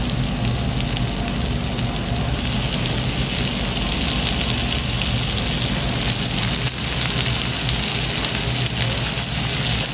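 Garlic fries in melted butter in a pan, giving off a continuous, loud, close crackling sizzle that holds steady throughout with no talking.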